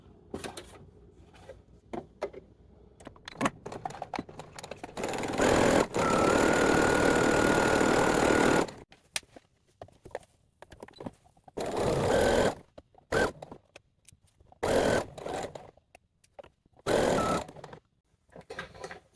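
Sewing machine stitching a toddler's summer wedding dress, with a backstitch at the start before ruffling: several bursts of close, rapid whirring stitching, one long sustained run, separated by quieter clicks and handling of the fabric.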